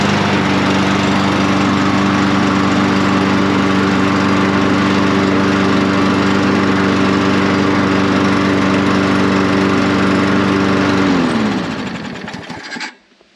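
A Toro electric-start lawn mower engine runs with a loud, steady drone for about eleven seconds, then cuts off and winds down to silence.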